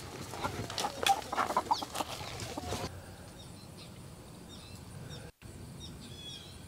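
Chickens clucking around feeding time in a farmyard with ducks and geese, close clucks and calls for the first few seconds, then a quieter stretch with faint distant chirps.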